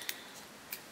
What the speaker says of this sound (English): You just have to cut the tape.